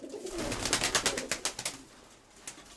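A very old pigeon coos nearby in a series of soft, pulsing low calls that build then trail off, with one last short coo near the end.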